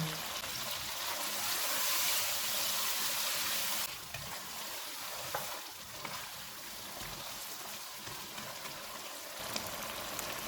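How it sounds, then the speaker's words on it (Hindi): Mutton with red chili powder, coriander powder and salt fries in a pan, hissing steadily up close, loud at first and then softer, with occasional stirring scrapes and clinks. "इनको 4 से 5 मिनट तक भूनेंगे।"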